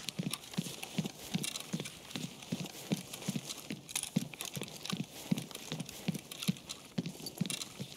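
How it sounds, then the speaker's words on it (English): Rapid rhythmic footsteps in Escape From Tarkov, a steady run of close thudding steps over rough ground with constant crunchy ambient noise. "I could have sworn I just heard a footstep."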